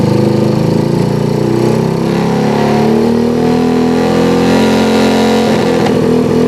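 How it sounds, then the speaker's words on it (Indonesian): Motorcycle with a DC ignition and a misfiring, sputtering engine revs as the throttle is pulled, a loud close drone rising and wavering in pitch, with a rough, stuttering patch near the end. "Sekarang kita tarik gasnya."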